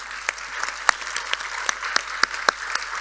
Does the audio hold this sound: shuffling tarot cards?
no